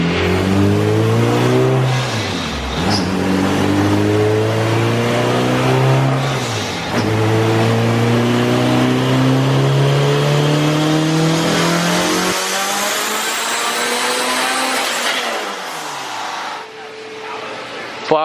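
AWD Honda CRX on a dyno, engine revving hard through repeated pulls with rising harmonic whine and sharp drops between, loud and close, cutting out near the end before a brief trailing wind-down.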